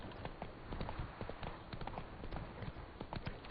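Steady clip-clop of Roach the horse's hooves in The Witcher 3, a continuous galloping rhythm at moderate distance under faint game ambience.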